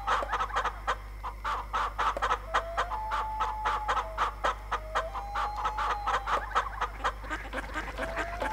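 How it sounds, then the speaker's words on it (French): Chickens in the farming video game My Farm 2018 on Switch cluck in a steady, rapid stream of short calls, with occasional drawn-out honking notes over a low constant hum. "On va nourrir les poules."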